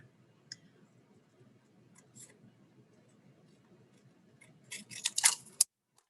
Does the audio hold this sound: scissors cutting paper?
yes